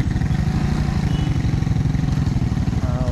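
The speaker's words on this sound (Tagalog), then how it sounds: "kita na tong motor karon galisod og dagan" A motorcycle strains along a rough road, its engine chugging in a fast, uneven throb that stays loud and close throughout.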